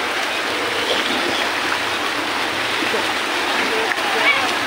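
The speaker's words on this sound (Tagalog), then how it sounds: "Kita nyo yung tubig, oh, yung baha." Street floodwater after a typhoon in Divisoria, Manila, gives a steady rushing, splashing wash, loud and continuous, with faint voices behind it.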